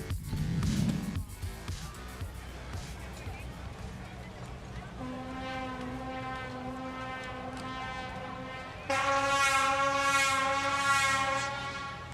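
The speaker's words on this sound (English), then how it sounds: "Those air horns you can hear are from the crowds" Sustained air horns blare from a rallycross crowd at Estering, Germany, one steady tone joined by a louder, layered blast partway through, over background noise and a voice.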